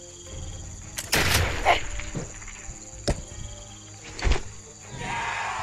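Gunfire in the video game Expeditions: Conquistador: a loud, harsh blast with a brief roll, followed by two sharper, shorter cracks spaced a second or so apart, over a faint background hum, with no talking.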